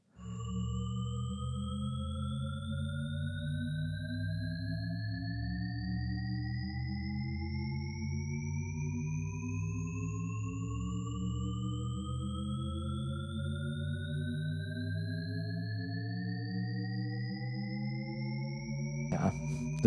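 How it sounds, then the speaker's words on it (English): A steady layered tone seems to climb in pitch continuously without ever getting higher overall, holding constant loudness for about twenty seconds. "another example, same for the sine wave, but then now with the Shepard tone"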